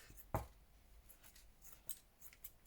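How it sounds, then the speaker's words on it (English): Scissors trim paper for a handmade journal's tag pocket page: one crisp, close snip stands out, followed by a few faint rustles and small cuts over a quiet background. "we can stretch this out and trim some of this off"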